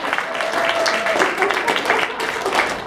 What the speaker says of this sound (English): A round of applause for the front row.